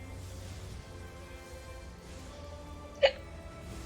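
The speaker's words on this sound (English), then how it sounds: "I got the hiccups" A single sharp hiccup pops out once, brief and fairly close, over a quiet hum of background game sound.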